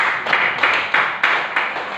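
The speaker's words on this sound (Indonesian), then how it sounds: "Tepuk tangan." A classroom group of students claps in applause, several quick bursts of brisk, fairly loud clapping in a regular rhythm with no talk.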